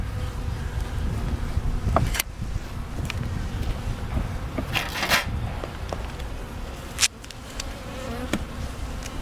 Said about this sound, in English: We're at a new apiary, 2 hives that we built.